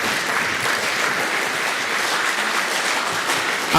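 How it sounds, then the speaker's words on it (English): Audience applause at a conference closing, a dense, even roar of many hands clapping in a large hall, held steady and loud for the whole stretch with almost no voices. "can we please stand and big a round of applause"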